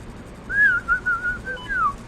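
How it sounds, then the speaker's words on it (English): A single clear, wavering whistle in the video game The Swindle, a warbling tone that dips and rises over about a second and a half, loud and close, against a low background hum with no talking. "That is a whistle."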